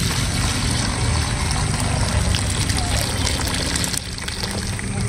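Salt water solution, about half a kilo of salt dissolved for a rice seed soaking test, is poured steadily at close range. The splashing trickle runs for several seconds and drops slightly near the end.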